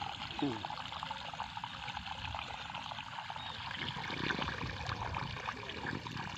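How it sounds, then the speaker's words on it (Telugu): Water pouring into a container for mixing pesticide to spray on a cotton crop, a continuous splashing trickle at close range, with some voices in the background. "అలా నీళ్ళు పోయాలి ఇంకా అట్లా మందు పోసి"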